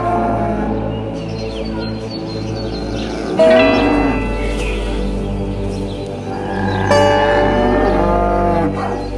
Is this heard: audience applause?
no